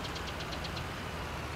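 Tractor engine idling in the Farming Simulator 19 video game, a steady continuous drone with a faint regular knocking pulse, loud and close with no talking.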